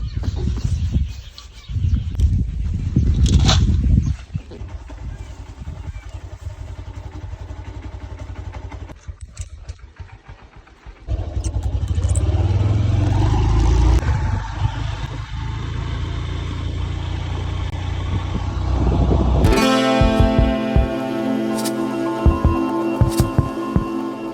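A motorcycle sets off toward the office along a village road, engine drone rising and falling with wind buffeting, a quieter stretch midway, then a steadier idling hum near the end.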